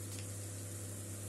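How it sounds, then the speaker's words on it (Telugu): Ginger, garlic and turmeric fry in a pan with a steady, continuous sizzle, close and even throughout, over a low electrical hum. "ఇప్పుడు కొంచెం పసుపు వేసి బాగా ఫ్రై కావాలా"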